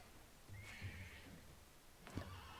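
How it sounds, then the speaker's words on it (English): A wild horse in the game Dawn of Man whinnies twice, a shrill neigh early on and a second sharper one near the end, clear against a low ambient bed. "Oh, we've got a wild horse here."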